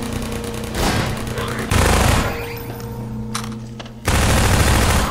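An automated turret in Half-Life 2 rattles out machine-gun fire in steady sustained bursts that stop and restart, loud and close.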